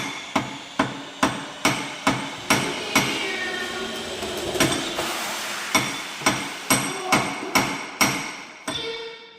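A hammer strikes metal in a steady run of sharp, ringing blows during a hydraulic cylinder repair, pauses briefly, then resumes the same even rhythm, loud and close.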